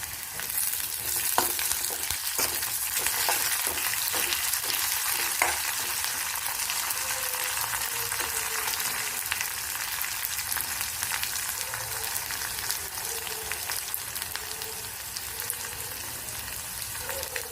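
Curry leaves hit hot oil with browned onion, setting off a strong, steady sizzle with brisk stirring scrapes early on, settling into a constant crackling fry.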